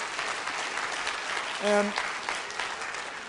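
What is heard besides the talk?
audience applause at a keynote talk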